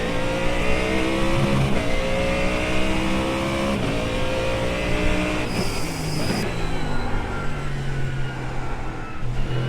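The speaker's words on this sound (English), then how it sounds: "Oh, this car sounds amazing!" A front-engined American muscle race car in the iRacing sim roars steadily for the whole stretch, with a loud, continuous engine note that rises and falls through gear changes and revs, and no talking.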